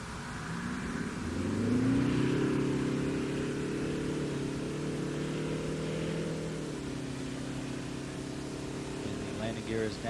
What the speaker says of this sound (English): rolling out on runway 33 at the Kennedy Space Center